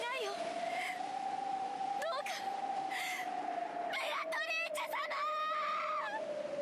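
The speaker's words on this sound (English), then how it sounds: "it isn't a new Umineko episode without someone yelling" A character in the Umineko When They Cry visual novel yells in a strained, wavering voice with sharp rising and falling cries, loud and close over a steady sustained tone running underneath.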